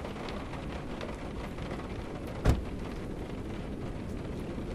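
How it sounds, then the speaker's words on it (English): Steady rain falls in a horror video game ahead of a storm, a dense, even hiss with a single sharp thump midway. "it has to be raining"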